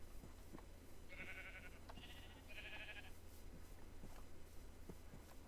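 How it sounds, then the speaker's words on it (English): Sheep bleating in the Minecraft video game: three short, fairly quiet bleats in quick succession over a low background hum with faint footstep clicks. "Got more sheep here."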